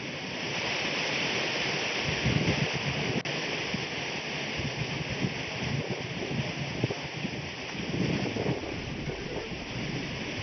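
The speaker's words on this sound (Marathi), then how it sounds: "सोसाट्याच्या वाऱ्यासह जोरदार पाऊस बरसला" Heavy rain pours down with strong gusty wind in Maharashtra during the Diwali season, a loud, steady roar of rushing noise with no voices.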